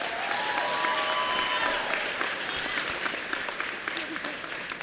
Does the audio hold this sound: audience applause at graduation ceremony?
yes